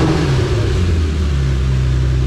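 The rotary engine of a Mazda RX8 with a ported engine revs loudly and steadily at close range. It gives a continuous deep rumbling drone for about two seconds, with no speech.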